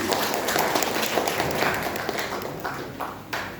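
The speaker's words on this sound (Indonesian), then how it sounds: "Tepuk tangan untuk kita sekalian." A crowd applauds at the 2024 principal inauguration at SMK Bhakti Praja Batang: brisk, continuous clapping from many hands that thins toward the end, with faint murmuring underneath.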